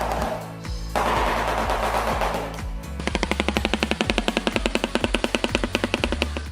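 Shoebill clattering its huge bill in a rapid, machine-gun-like burst of sharp, evenly spaced knocks that run steadily for several seconds, loud and close, following a stretch of rustling noise.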